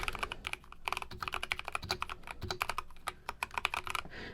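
Typing on a computer keyboard with a small shift key, a steady flurry of close, clattery keystrokes in fast, uneven bursts with brief pauses, clear and with no talk over it.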